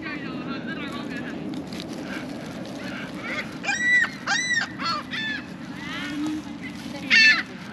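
Seagulls call at the Toronto waterfront on Lake Ontario, a series of loud squawking cries rising over steady outdoor background noise, with people talking nearby.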